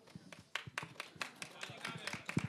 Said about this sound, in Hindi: तालियां बजते रहनी चाहिए जब तक स्टेज पे आती हैं